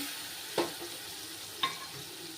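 Spice paste with a splash of water is stirred in a pan for a paneer dish, a soft continuous sizzle with two sharp spoon taps against the pan, no voices.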